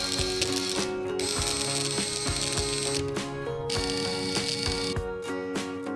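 Screws tightened with a ratchet tool while assembling a metal storage rack, a loud, close, steady run of rapid clicking ratchet strokes with brief pauses and metallic clatter.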